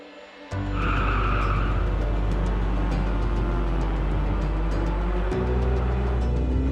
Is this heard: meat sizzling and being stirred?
no